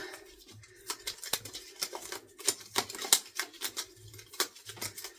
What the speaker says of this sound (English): we're going to go ahead and shuffle these cards all up.